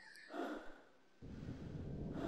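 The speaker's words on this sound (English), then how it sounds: "Heavy breathing." Heavy breathing in the video game Half-Life, a few faint, airy breaths, close and hushed, followed by a rougher, steady rush of breath.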